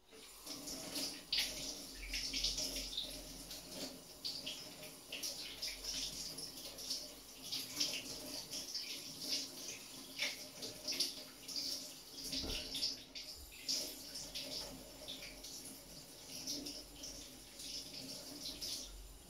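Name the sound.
tap water washing knives and hands at a sink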